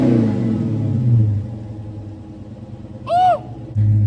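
A 2014 Dodge Challenger SRT8 with its 6.4-liter V8 rumbles and revs up, holding a low engine note for over a second before settling into a steady idle, with a brief higher chirp partway through and another rev near the end.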